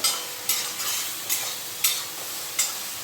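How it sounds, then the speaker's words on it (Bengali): Taro stolons are stir-fried with turmeric in a pan: a spatula scrapes and stirs in about five sharp, evenly spaced strokes over a steady soft sizzle, close and with no talking. "লতিটাকে একটু ভালো করে কষিয়ে নেব, কাঁচা হলুদের গন্ধটা যাতে চলে যায়, আর একটু লতিটা একটু ভাজা ভাজা করে নিতে হবে"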